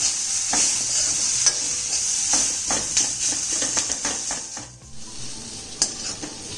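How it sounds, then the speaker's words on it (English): Capsicum and onions stir fry on a tawa over high flame, with a constant bright sizzle broken by repeated scraping and tossing strokes of a utensil against the pan. "This is stir fried for a minute on high flame"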